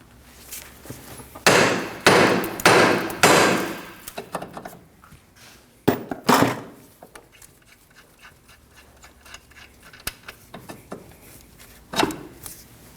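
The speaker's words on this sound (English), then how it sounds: "Now I'm going to strike the end of the knuckle with a hammer." Hammer blows striking the end of a steering knuckle on a 2003-2006 Subaru Baja during front wheel bearing replacement: a burst of four loud metallic strikes, then scattered single hits and softer clanks of shop noise.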